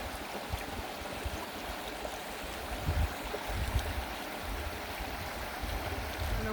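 A creek fed by melting snow, a steady broadband rush of flowing water with faint gurgling swells, moderately quiet and continuous with no voices.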